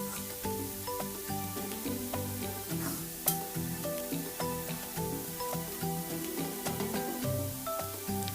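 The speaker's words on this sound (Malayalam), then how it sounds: "ഇതും കൂടി ചേർത്ത് കൊടുത്തതിന് ശേഷം നമ്മൾക്ക് മസാലയുമായിട്ട് നന്നായിട്ട് മിക്സ് ചെയ്ത് യോജിപ്പിക്കാം" Spinach stirred into masala in a hot pan while cooking a rice dish, a soft continuous sizzle with clinks and scrapes of the spoon against the pan.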